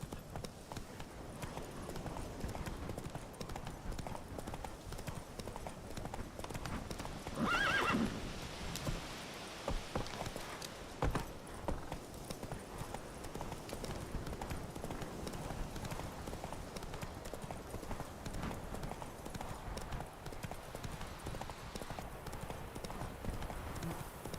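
Geralt's horse Roach from The Witcher 3 gallops with a rapid, continuous clip-clop of hooves through the whole stretch, mixed with brief whinnies and game ambience, and a voice speaks briefly partway through.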